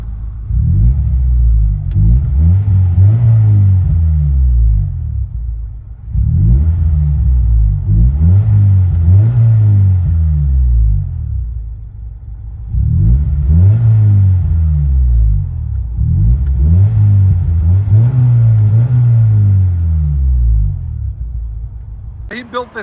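From inside a 1995 Acura Integra 5-speed with a rebuilt motor, the engine revs loudly in four repeated rising and falling sweeps, each held a few seconds with short pauses between.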